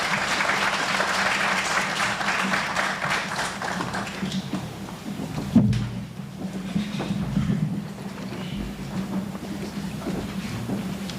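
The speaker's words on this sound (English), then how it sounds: "A round of applause again for our chief guest." Applause for the chief guest at a health conference rises strongly at first, then thins out and fades, with a single loud bump partway through and scattered clapping lingering afterward.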